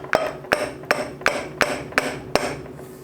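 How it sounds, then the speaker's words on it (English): A wooden hammer handle knocks against the cast-iron head casting of a Deckel high-speed milling head, striking seven times in a steady rhythm with sharp, ringing metallic taps, close and alone. "I'm just using the wooden handle of the hammer against the casting, not against the spindle."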